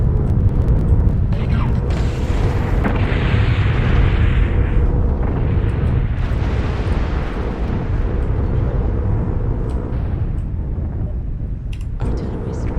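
Artillery strike explosions boom and rumble in the video game MechWarrior Online, several heavy blasts rolling one into another over a constant low mechanical drone, loud and close throughout.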